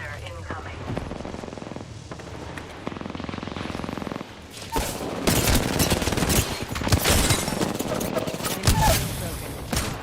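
Rapid gunfire bursts in a video game firefight, dense and loud, building in the second half over game music and effects, with a player talking in the background.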